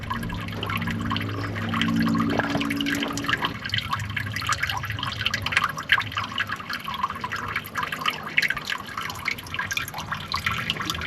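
Spring water trickling and dripping at Saddle Springs on Shield Ranch, a remote spot in dry ranch country, with a steady close babble of small drips and splashes and a low hum in the first few seconds.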